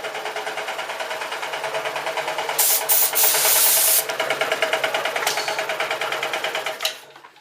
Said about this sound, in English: Shut my air compressor down.